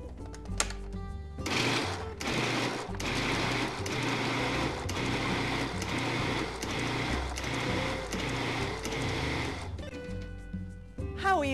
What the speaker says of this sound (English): now I'm going to mince a pound of yellow or sweet onions in the processor